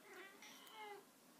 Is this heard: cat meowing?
yes